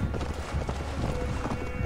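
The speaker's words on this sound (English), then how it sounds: "Okay, now you can come over, you stupid horse." Hooves of a horse in the video game Assassin's Creed Valhalla clatter in a quick, steady galloping rhythm, loud and close throughout, with a brief whinny-like tone mixed in.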